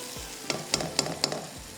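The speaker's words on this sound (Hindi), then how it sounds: "जब तक यहाँ पर हमारा प्याज थोड़ा सा फ्राई हो रहा है" Onion fries in a pan over a high flame for coconut prawn curry, a soft sizzle under a few quick scraping stirs in a short run.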